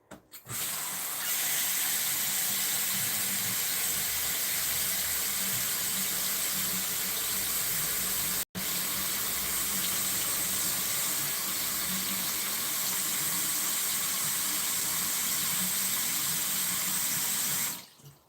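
Water runs steadily from a tap into a sink, a continuous loud hiss and splash lasting throughout with one brief cut midway, no voices.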